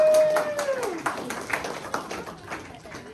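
Audience applause for a university campus tour guide team at an admitted student information session, a dense burst of clapping that starts loud and gradually thins out over a few seconds, with a few voices mixed in.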